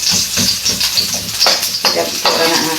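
Garlic fries in a hot pan: a close, continuous sizzle with bursts of stirring scrapes and crackles.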